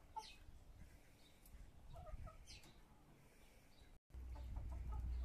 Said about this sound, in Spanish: Bueno, Chanquete, voy a ver las gallinas, ya vengo.